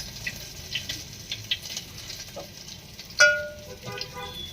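Green chilies fry in a hot pan among vegetables, with soft crackling and a sharp burst of sizzle as they go in, then continued spitting and popping up close.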